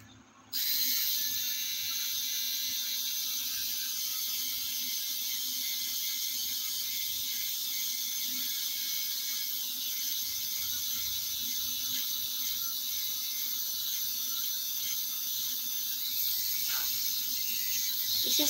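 An electric eyebrow shaver switches on and then runs continuously with a thin, high, even buzzing whine. The sound is close and steady for the whole stretch, with no talking.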